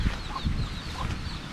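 A hungry chicken near a fish pond gives a few quiet, close clucks in quick succession against faint outdoor background noise.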